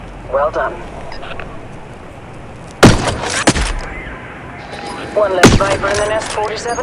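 Sniper rifle shots ring out in the mobile game Hitman: Sniper, with two or three sharp, loud reports followed by echoing tails, while someone talks excitedly between them.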